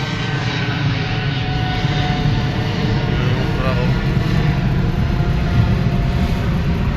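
A loud, steady engine roar, like an airplane overhead, fills the whole stretch with continuous low rumble and people talking beneath it.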